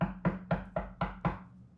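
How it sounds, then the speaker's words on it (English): A stern knock at a door: six firm, evenly spaced raps in quick succession, close and fairly loud, each with a short woody ring, with nothing else heard. "You hear a very stern knock at the door."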